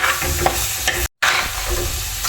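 Coconut paste for kurukku kaalan fries in a pan, sizzling steadily while being stirred, loud and close, with a brief dropout in the middle and no talking.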